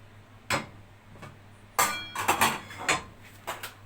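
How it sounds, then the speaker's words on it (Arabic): An empty metal cooking pot is handled in a home kitchen during soup preparation, giving several sharp clanks and knocks close by with short pauses between them. "جبت بقى هنا حله فاضيه،"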